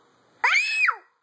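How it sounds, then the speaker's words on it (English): A young girl screams into a handheld microphone, one loud, shrill, sustained cry of about half a second that rises, holds and trails off, close and alone. "If you're gonna scream like that, let's microphone it."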